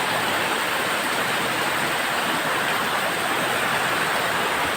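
Heavy January rain pours down in Yogyakarta, Indonesia, a loud, dense and unbroken roar of water that fills the whole scene evenly, with no talk or other sounds over it.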